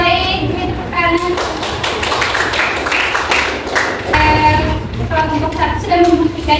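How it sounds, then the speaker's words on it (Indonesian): A classroom of children claps in a dense, steady patter of applause lasting several seconds, mixed with children's voices and a louder burst of claps near the end. "Ya baik, tepuk tangan."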